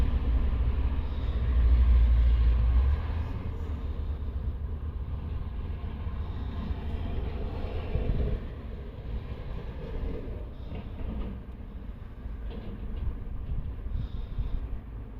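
Low electric motor drone from a jammed Stow and Go rear seat in a 2008 Chrysler Town and Country, a steady hum with a heavier rumble in the first few seconds, then continuing evenly and moderately loud.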